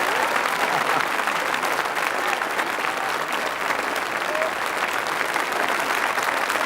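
Sustained, dense applause from a concert audience at a show, a steady wash of many hands clapping at even loudness throughout, with no speech over it.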